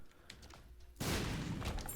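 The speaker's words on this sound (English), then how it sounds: "Sometimes we'll be throwing out explosions followed by perpendicular explosions in a 90-degree fashion" After a second of quiet, a loud, booming blast erupts in the game Binding of Isaac Afterbirth Plus and roars on with crackling debris, close and dominant, with no talk.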